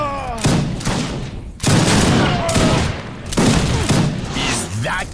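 Musket volleys in Age of Empires 3 (Wars of Liberty mod) crack out as three loud, broad bursts of massed gunfire, with in-game unit voices calling out between and over them.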